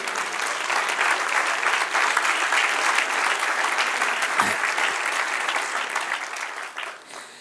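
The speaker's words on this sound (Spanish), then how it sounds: "darle un aplauso al Señor" A church congregation applauds steadily and loudly for several seconds during a Bible class, the dense clapping fading toward the end.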